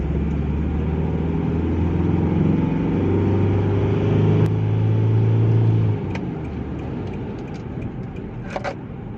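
An Isuzu MU-X 3.0 SUV with a 3-liter CRDI diesel accelerates hard, and its engine drones loudly and climbs steadily for about six seconds. The engine then eases off to a quieter cabin rumble. No one speaks.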